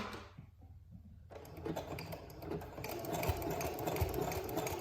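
A sewing machine stitching a fabric gusher pad stops briefly, then whirs back up into a steady, close mechanical hum with rapid needle ticking and no voices.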